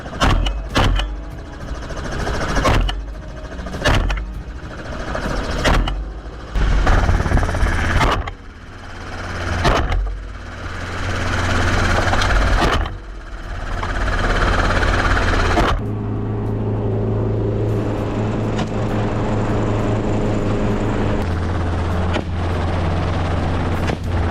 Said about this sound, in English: We veer sharply, engines roaring, blades beating faster.